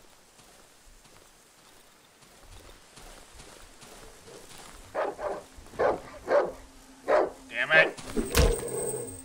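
A dog barking in the horror game Darkwood, several sharp barks in a quick irregular run that grow louder toward the end over a soft rainy background, with a brief spoken exclamation.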